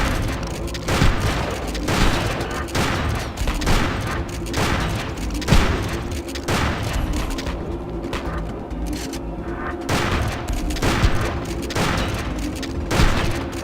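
Gunshots in the Hunter: The Reckoning video game, a steady series of loud sharp bursts repeating every second or so over a constant background of game music and rumble.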